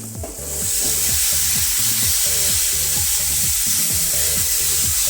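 Loud, continuous sizzling of green chillies frying in hot tempering oil for lentil dal, a bright crackling hiss with rhythmic stirring knocks underneath.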